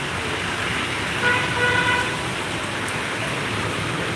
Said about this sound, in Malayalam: മഴ തിമിർത്ത് പെയ്തുകൊണ്ടിരിക്കുകയാണ് പല വാഹനങ്ങളും കടന്നുകൊണ്ടിരിക്കുന്നു